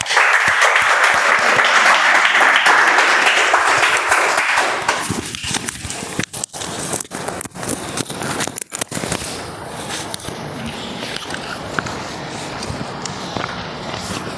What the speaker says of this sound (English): put a hand together with a huge round of applause